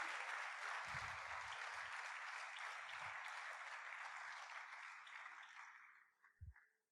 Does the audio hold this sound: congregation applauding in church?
yes